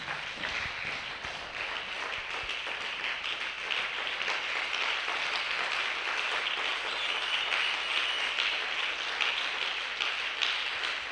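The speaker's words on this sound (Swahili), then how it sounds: "Mpigie Yesu makofi mazuri." Church congregation applauding during a fellowship service, a dense, steady roar of many hands clapping that holds evenly for about eleven seconds with no pauses.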